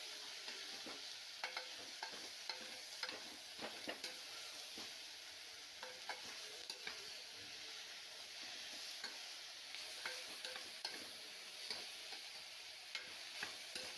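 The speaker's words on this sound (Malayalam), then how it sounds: "ഇനി നമുക്കതിനകത്തേക്ക് ക്യാബേജ് ചേർത്ത് കൊടുക്കാം." Cabbage and vegetables for soup sautéing in a hot pan, a soft steady sizzle with scattered light stirring scrapes and ticks, faint and continuous, no voices.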